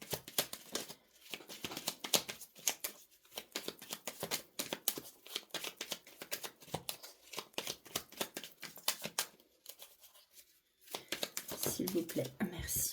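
Tarot cards shuffled by hand at close range, quick crisp riffling bursts repeating in a busy rhythm with short pauses, a faint voice speaking underneath.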